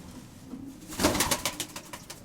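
Pigeons coo in a loft housing racing homers, a soft murmuring burst rising about a second in and fading into brief rustles, near and moderately quiet.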